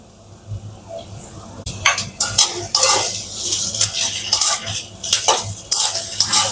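Spices going one by one into a pan of fried potato for a Bengali banana stem curry, stirred with a wooden spoon: repeated close scraping and clinking strokes with light sizzling, no talk.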